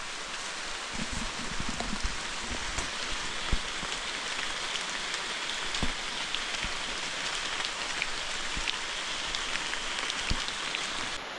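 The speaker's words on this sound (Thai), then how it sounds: "ฝนยังตกอยู่นะ" Rain falls steadily outdoors near a clump of trees, a dense, even hiss with occasional louder drops pattering close by and no talking.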